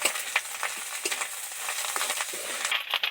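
Prawns frying in a wok in a village kitchen, a steady crackling sizzle broken by repeated scraping stir strokes, close and fairly loud with no talking.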